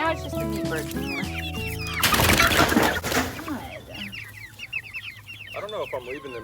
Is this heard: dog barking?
no